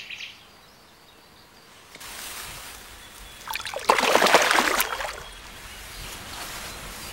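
A carp released back into the water of a canal reach makes a brief close splashing burst, thrashing for about a second amid quiet outdoor ambience.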